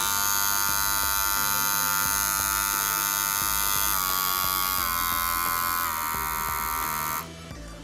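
Rhenpo hair clippers run steadily at close range with a bright, constant electric buzz, the motor pitch shifting slightly a few times before the hum drops off near the end; no one speaks.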